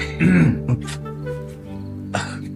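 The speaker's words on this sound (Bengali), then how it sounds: "কি হলো, কাশি হয়েছে নাকি?" A man clears his throat and gives a short cough up close, followed by quieter breathy sounds and another brief throat noise near the end.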